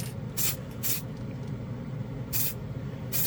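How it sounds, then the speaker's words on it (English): Acrylic spray paint can spraying onto paper in four short hissing bursts, each about a quarter second long, close and fairly loud against a low room rumble. "already is better out of the can, that's for sure, as far as spraying it goes."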